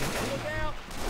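Rapid gunfire in Left 4 Dead 2 aimed at a Boomer, a brief burst of loud, dense shots over a busy game background.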